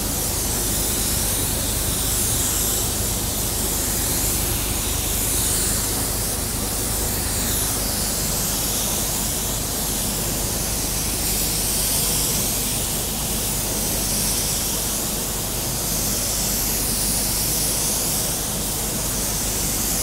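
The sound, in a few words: spray gun spraying clearcoat on a car door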